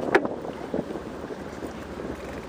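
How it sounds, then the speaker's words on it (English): Wind gusts buffet the microphone with a steady rushing roar and a few sharp bumps, loud and close, with no talking. "Woo! It's windy."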